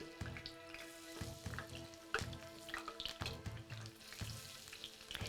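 Zucchini and garlic frying in a pan, a steady close sizzle with intermittent clicks and clatter from stirring, no talking.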